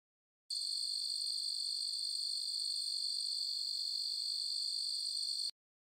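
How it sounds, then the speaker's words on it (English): A steady electronic cricket chirp plays as a comedic sound effect for awkward silence, a thin high-pitched trill that starts abruptly, holds at an even level for about five seconds, then cuts off cleanly. "there's just crickets, which is an expression in English to mean silence"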